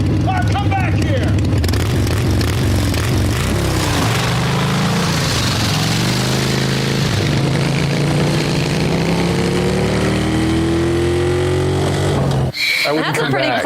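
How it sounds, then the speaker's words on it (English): A Harley motorcycle engine revs and pulls away, its rumble changing pitch as it rides off, layered under continuous speech and background music before cutting out abruptly near the end. "Clark riding off on the Harley"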